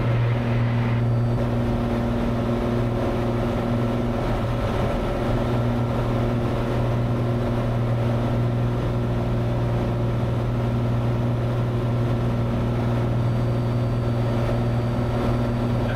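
A small airplane's piston engine drones steadily and loudly with a constant propeller hum while it climbs after takeoff from Harbor Springs in a gusty crosswind. The note is close, even and unbroken, and no one speaks over it.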